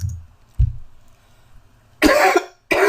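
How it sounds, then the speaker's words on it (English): A few sharp coughs: a low throaty cough early on, then two harsh, breathy coughs close to the microphone near the end, with quiet gaps between. "I feel a cough coming on."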